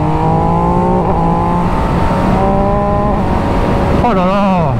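An MV Agusta 800 Brutale RR motorcycle engine hums loudly and steadily while riding, its pitch stepping with several gear changes and rising sharply near the end, all under constant wind rush.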